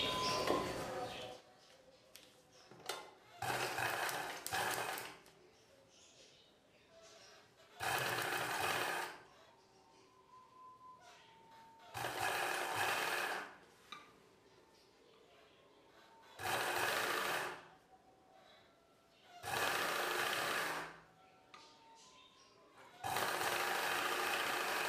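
A sewing machine stitches the folded-in extra piece along a dress front neckline, running in repeated bursts of several seconds each with quiet pauses between, fairly close and steady.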